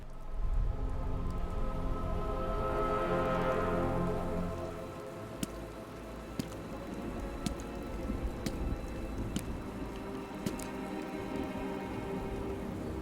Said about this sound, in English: now this is what I call a rainy day